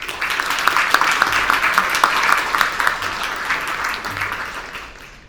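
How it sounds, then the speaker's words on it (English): An audience at a student recognition award ceremony claps steadily for sponsors, a dense, fairly loud crowd applause with scattered sharp claps that holds level and then tapers off toward the end. "Let's give our platinum sponsors another round of applause."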